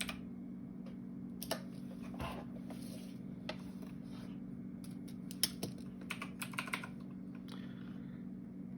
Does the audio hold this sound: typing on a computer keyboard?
yes